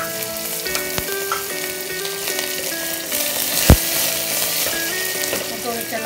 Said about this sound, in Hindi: अब इसको मस्टर्ड ऑयल डाले हैं, जिसमें जीरा डालेंगे, थोड़ा सा हींग